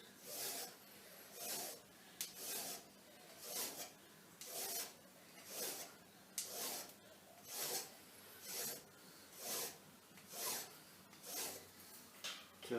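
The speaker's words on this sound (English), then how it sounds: "Turn the file over because it's aluminium, they pin up." A hand file rasps across an aluminium part held in a lathe, making about a dozen evenly spaced strokes in a steady back-and-forth rhythm, quiet and close with no talking.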